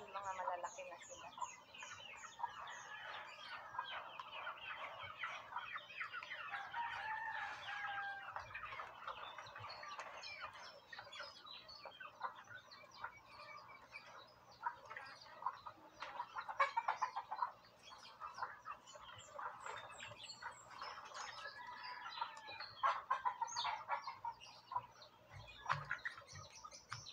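Many chickens clucking and chirping together in a coop, a busy, fairly quiet chorus that runs steadily throughout, with a few louder squawks.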